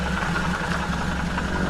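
A 1600 cc Toyota Corona engine swapped into a 1951 Willys Jeep, running at idle with a steady low, even thrum that sounds close and continuous and carries no speech.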